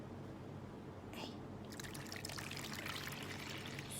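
Warm water is poured into a bowl, a soft, quiet trickling splash that starts about halfway through and runs to the end.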